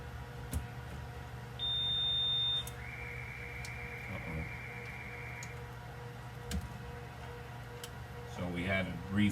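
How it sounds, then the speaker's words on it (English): A home security system sounds a short electronic alarm beep as it powers back up after a motion sensor install, followed by a longer steady tone and scattered ticks, fairly close in a quiet room. "So we had a brief alarm."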